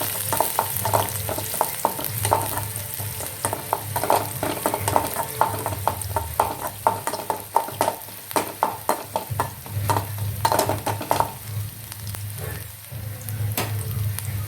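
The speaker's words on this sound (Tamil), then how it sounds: "வெங்காயம் வெங்காயம் நல்லா பொறிச்சு" Onions fry in a pan after mustard seeds for an eggplant pachadi, giving a steady close sizzle broken by frequent quick stirring clicks and scrapes throughout.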